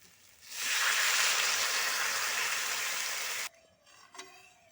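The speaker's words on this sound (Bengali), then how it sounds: "এবার আমি দিয়ে দিচ্ছি পরিমাণ মতো জল।" Water poured into hot, sizzling masala for a katla fish curry with kohlrabi makes a loud, steady rushing hiss lasting about three seconds, then stops abruptly, leaving faint kitchen clinks.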